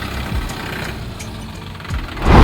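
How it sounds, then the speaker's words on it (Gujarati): A Mahindra Yuvo Tech+ 405 DI tractor running in 4x4 gives a short, close diesel rumble with faint knocking pulses, swelling louder at the very end. "જે ટ્રેક્ટર તમે જોઈ રહ્યા છો ફોર બાય ફોર વડે"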